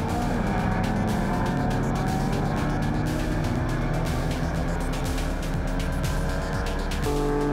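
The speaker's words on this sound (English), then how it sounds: "CTR Racing MGB Roadster side by side with Colin Keane's Mercedes-Benz 280E" An MGB Roadster and a Mercedes-Benz 280E race side by side on a circuit: sustained loud engine roar and droning exhaust throughout, with a brief shift in pitch near the end.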